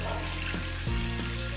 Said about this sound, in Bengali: মাছটাকে একটু যত্ন নিয়ে ভাজতে হবে